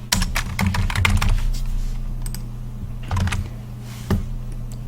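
Code is typed on a computer keyboard in quick bursts of close, crisp keystrokes, with short pauses between runs and a steady low hum underneath.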